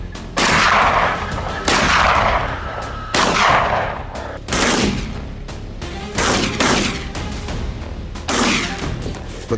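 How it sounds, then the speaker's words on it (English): A hunting rifle fires at charging wild boar during a German boar hunt. About seven loud, sharp shots ring out roughly every second or so, each followed by a rolling echo, with no speech. "I swung around and fired again, dropping the second boar before it got too close"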